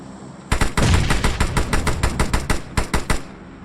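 Automatic gunfire in PUBG Mobile, a loud close burst of about a dozen evenly spaced rapid shots with a brief gap before the last few, no talking over it.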